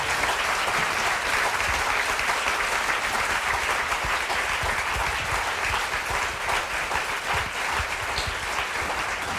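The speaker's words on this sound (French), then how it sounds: "On va déjà vous applaudir parce que vous avez été merveilleuse." An audience applauds a speaker after a talk on abortion and the law, dense and loud clapping sustained evenly from start to finish with no voices over it.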